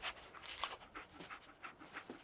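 Dogmeat, the dog companion in Fallout 4, panting quietly in quick, rhythmic breaths, soft and close, with no other sounds.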